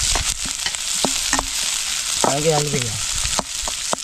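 River crab gravy fries in a pan with a loud, steady sizzle, broken by a few sharp scraping stirs and a short spoken phrase in the middle.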